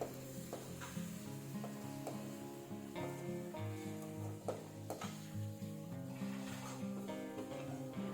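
Grated coconut is stirred into a ridge gourd stir-fry in a pan, giving a continuous soft sizzle with scraping stirring strokes, close and fairly quiet.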